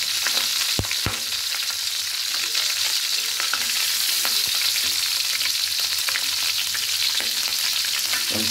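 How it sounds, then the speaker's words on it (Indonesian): Shallots and garlic sautéing in a pan, a constant bright sizzle of hot oil with a few sharp clicks of a utensil against the pan, close and steady with no voices. "Kita mau tumis bawang."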